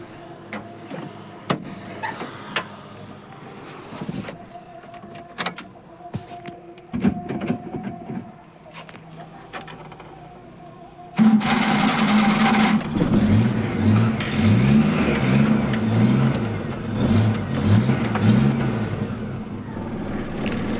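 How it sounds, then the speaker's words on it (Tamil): Rattling and clicking noises precede a Maruti Omni van engine cranking to life midway, followed by a steady idle with rhythmic rising revs nearby. "வண்டி ஸ்டார்ட் பண்ணி காமிக்கிறேன்"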